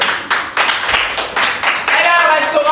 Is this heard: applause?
yes